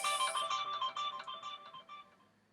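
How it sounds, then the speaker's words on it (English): A phone rings with a bright, repeating electronic ringtone melody, clear and fairly close at first, then its pulsing notes gradually fade out. "why is my phone ringing?"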